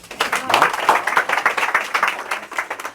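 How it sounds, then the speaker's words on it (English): Steady, dense clapping from a crowd, sustained applause at a fairly loud, even level throughout. "Give me a big round of applause."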